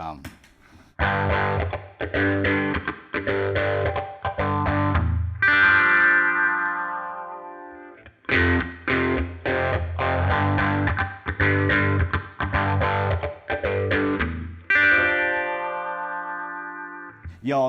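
Chunky distorted electric guitar chords from an early-2000s Korean-made Epiphone Firebird VII with a bright, biting bridge-pickup tone, strummed in bursts with a couple of sustained ringing chords, loud and close.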